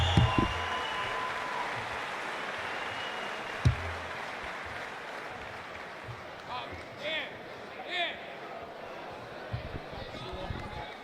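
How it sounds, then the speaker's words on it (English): A crowd at a Cage Titans MMA event applauds and murmurs steadily as a choked-out fighter gets back up, with a dense wash of clapping under a commentator talking, plus a few sharp knocks. "And the crowd receives it welcomingly"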